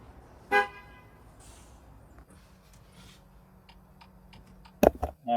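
A Ford F-150 pickup truck's horn gives a short honk near the start, then a quiet stretch with faint ticks, and two more loud blasts come near the end.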